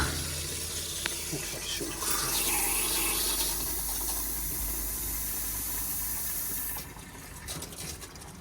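Water hissing and spraying from a leaking compression fitting on a domestic pipe, a steady rushing noise that holds for several seconds before dropping away near the end.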